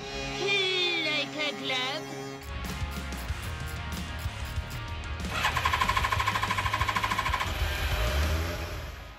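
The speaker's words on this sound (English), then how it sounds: "A quick fire up to check for exhaust leaks and check the clocks work." A rebuilt Yamaha FZR1000 motorcycle engine cranks over and catches, then runs with a loud, rapid, steady mechanical chatter after a burst of other noise.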